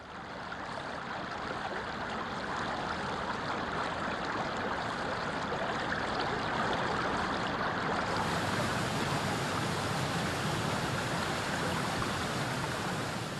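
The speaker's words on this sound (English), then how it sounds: "Ramsay Cascades is the highest waterfall in the park, plunging 100 feet over the rocks amid a rich hardwood forest." Ramsay Cascades, the highest waterfall in the Great Smoky Mountains, plunges 100 feet over rocks in hardwood forest, a loud, steady, broadband roar of rushing water that holds unbroken for the whole stretch.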